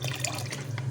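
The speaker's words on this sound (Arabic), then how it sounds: "احط له معلقتين خل" Two spoonfuls of vinegar go into homemade pickle brine, making a brief, faint liquid trickle and splash up close.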